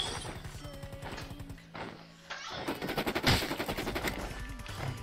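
Rapid machine gun fire in a parkour building-to-building shooter game, a dense rattling burst that pauses briefly and then resumes in quick repeated cracks, loud and close.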